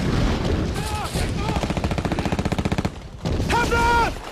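Artillery guns firing in a rapid fusillade of loud, close blasts, with shouted commands heard between the volleys.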